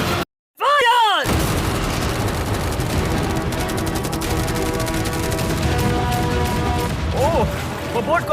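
Massed machine guns and cannons fire at once in a staged attack on a yacht, a dense, continuous fusillade of close, loud bangs and rattling bursts, with voices shouting over it.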